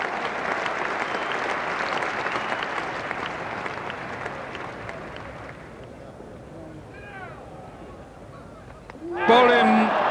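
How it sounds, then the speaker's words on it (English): Broad applause rolls around Lord's cricket ground during an England versus Australia Test match in 1989, gradually fading, before a brief burst of crowd noise near the end. "And the applause right around the ground for England's total"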